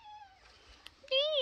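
A pet cat meows twice near a cool spot behind a bathroom, a short mew followed after a pause by a louder, longer meow, with a light tap between, over a quiet room.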